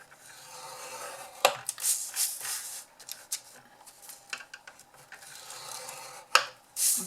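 A scoring tool rasps along paper or card for the sides of a nesting box, making short, close scraping strokes with sharp starts and brief pauses between them.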